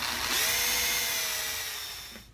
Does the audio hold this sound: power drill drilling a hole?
yes